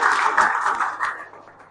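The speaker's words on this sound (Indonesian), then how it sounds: "Tepuk tangan buat Cindy." Classroom students clap briefly for a classmate, a short burst of soft, muffled clapping in a small room that fades out within a couple of seconds.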